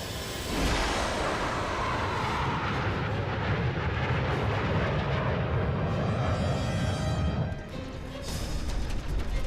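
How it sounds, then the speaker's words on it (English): An F-35 fighter jet roars past, a loud, steady broadband rumble of engine noise that holds for most of the stretch, dips briefly near the end and then swells again. "Looks like it's one of ours, sir. An F-35."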